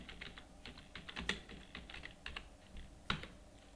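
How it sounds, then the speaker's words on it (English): Quick, uneven keystrokes on a computer keyboard while entering a bank name into accounting software, a steady patter of light clicks with a couple of sharper, louder taps standing out near the end, no voices. "Type Canara Bank."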